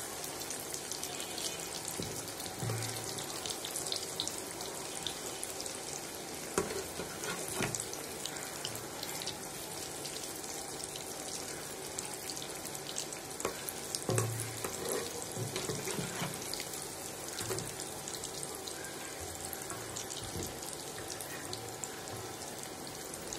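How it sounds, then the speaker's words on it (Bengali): Nimki dough pieces deep-frying in oil to a reddish brown make a long, steady bubbling hiss with scattered clinks and spoon scrapes, close and without talk. "লাল করে ভেজে নিতে হবে, তাহলেই হয়ে যাবে মজাদার নিমকি ভাজা"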